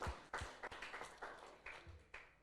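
A church congregation claps for God during a Sunday service in Bogor, heard as a faint, sparse scatter of separate hand claps in a quiet hall.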